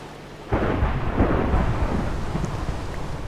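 A thunderstorm in the video game Minecraft, modded as Tekkit Lite, breaks with a sudden loud thunderclap that rolls on as a long rumble over steady rain, with no voices.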